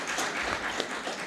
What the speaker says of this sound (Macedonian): за вас молам аплауз за дечињата